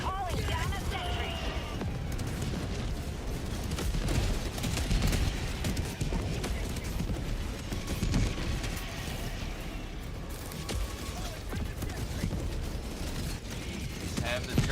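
Rapid automatic sentry turret gunfire in Helldivers 2, a dense, continuous clatter of sharp shots over mechanical battlefield noise, with voices mixed in throughout.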